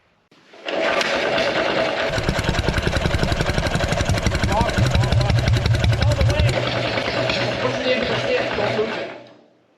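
A pony motor engine runs steadily with a rapid, buzzing chatter after blasting a mud dauber wasp nest out of its plugged exhaust, loud and close from start to finish.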